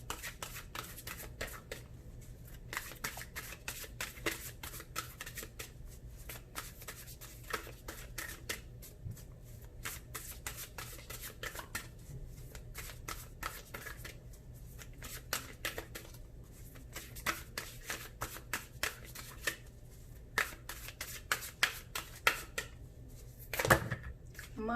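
Tarot cards being shuffled during a reading, a steady run of quick papery riffles and soft flicks repeating for the whole stretch, close and fairly quiet with no talking over it.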